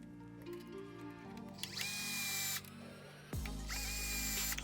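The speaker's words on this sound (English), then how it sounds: "be careful tightening these screws with this power driver" A handheld power driver tightens screws on a radio box in two short whirring bursts, each winding up then cutting off, close and fairly quiet with brief mechanical handling between them.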